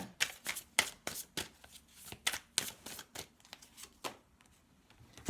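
Tarot cards shuffled and drawn during a Scorpio reading, a rapid series of crisp riffling and slapping card sounds in quick irregular bursts, close and fairly quiet, with no voice.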